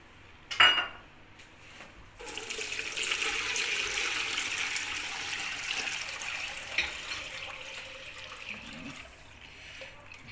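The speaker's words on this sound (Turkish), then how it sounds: "Şimdi limonatamızı süzeceğiz." Homemade lemonade is poured through a strainer, a steady close splashing pour of liquid lasting several seconds after an initial clank of kitchenware.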